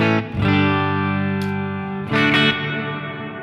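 A distorted electric guitar run through a Line 6 Helix with effect trails enabled: loud, thick sustained chords ring on and decay smoothly with chorus and reverb, and fresh strums come in partway through.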